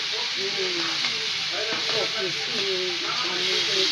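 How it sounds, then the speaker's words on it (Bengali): Winter vegetables such as cauliflower, beans, potatoes, eggplant and radish cooking in a pan with panch phoron, giving a steady loud sizzle and hiss with stirring clatter, while voices murmur faintly in the background. "আম্মু সবজিটা রান্না করছে"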